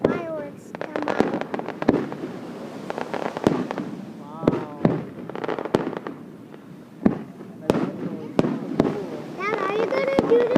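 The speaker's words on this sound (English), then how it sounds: "We can make fireworks come out." Fireworks at a 4th of July show over Hilo Bay, a series of sharp booming bursts and crackles at irregular intervals, with people talking and exclaiming nearby between the blasts.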